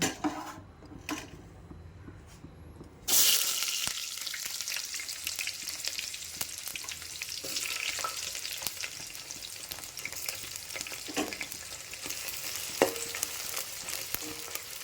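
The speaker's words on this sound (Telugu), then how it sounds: "ఒక గిన్నెలో ఆయిల్ వేసుకొని ముందుగా మనం కట్ చేసి ఉంచుకున్న ఆనియన్ పచ్చిమిరపకాయలు వేస్తాం" Chopped onions and green chillies hit hot oil in a cooking pot with a sudden loud sizzle that settles into a continuous crackling fry, with occasional stirring clinks.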